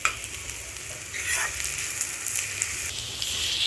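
Salt, chili powder and turmeric frying in hot oil, a continuous close crackling sizzle with a few soft stirring scrapes, no voices.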